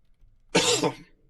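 A single short cough with a throat-clearing rasp, close and fairly loud, lasting about half a second and followed by quiet.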